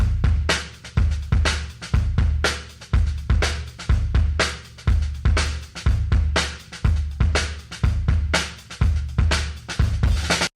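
A kick drum played with and without a low K trigger, in a mixed drum track with cymbals, thumps in a steady, punchy pattern, each hit loud and close with a tight low-end knock.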